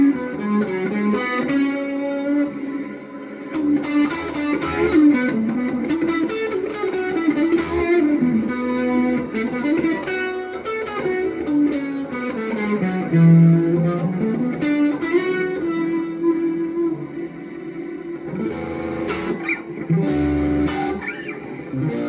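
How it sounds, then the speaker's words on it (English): An Indio Monoprice Retro Classic electric guitar through a Super Overdrive model plays a continuous distorted riff with sustained crunchy chords and melodic lines, loud and close, with no talking. "Turn on the Super Overdrive model."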